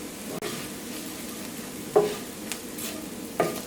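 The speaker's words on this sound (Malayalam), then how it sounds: "ഈ മുളകിൻ്റെ പൊടി ഇതിനകത്ത് കിടന്നിട്ട് നന്നായിട്ട് മുരിയണം." Chili powder and spices sizzle softly in a pan for potato masala, a low steady fry broken by a few brief scraping stirs of a spoon against the pan.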